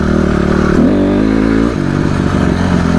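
A motorcycle engine revs hard during a first wheelie attempt, throttle rising and falling in a loud, close growl that dips briefly before picking up again.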